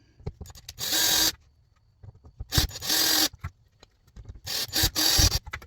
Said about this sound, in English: Pop the screws in.